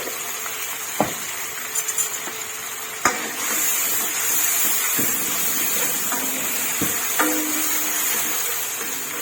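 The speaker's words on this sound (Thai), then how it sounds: "แล้วก็ค่อยเอาปลาใส่ไปคุกๆกับขิงนเลยค่ะ" Fish stir-fried with ginger in a hot pan, a steady sizzle and hiss carrying on throughout, broken by several sharp scrapes and knocks of the utensil against the pan.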